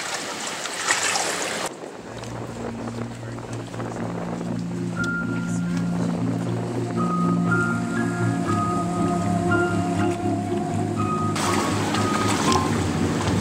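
Steady rain patters around a sailing catamaran as it sets off, with a low motor drone and hum building underneath, continuous and moderately loud.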